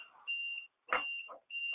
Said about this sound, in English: that alarm just went off to tell me that we have now used our 15 minutes